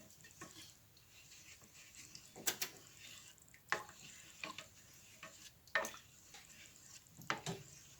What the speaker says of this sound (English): Gonna stir it up.